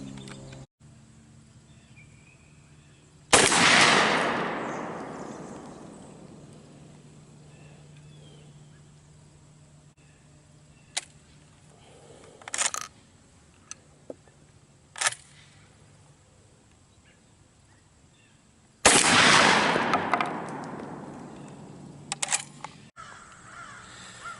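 A 16-gauge Belgian Browning Auto-5 Sweet 16 shotgun fires two loud, sharp blasts about fifteen seconds apart outdoors, each with a long decaying echo, with faint clicks and handling noises in between.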